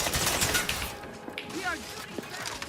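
Gunfire in The Outer Worlds video game: rapid bursts of shots at the start, then scattered single cracks with sweeping sci-fi effects, fairly close and loud amid a busy battle mix.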